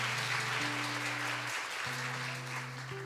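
A church congregation applauds during a homily, a continuous wash of clapping at moderate volume with a steady low tone sustained underneath.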